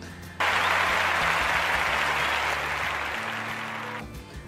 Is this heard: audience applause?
yes